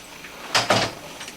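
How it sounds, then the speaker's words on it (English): A door swings shut in an office, a brief soft thud-and-latch burst heard up close in a quiet room. "You want to close that door, please?"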